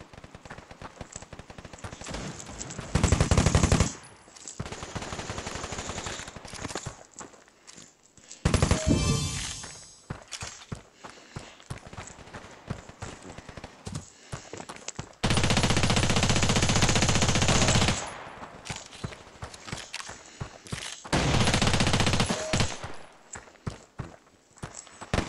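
Mini Negev machine gun fire in the mobile shooter game Standoff 2, several loud sustained bursts of rapid automatic shots separated by quieter stretches of footsteps and small game noises.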